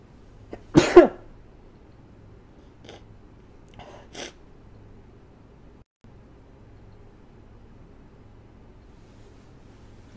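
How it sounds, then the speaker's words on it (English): A single sharp sneeze bursts out near the start, followed by a few faint throat sounds and small noises against a quiet room background. "So yeah, I just sneezed."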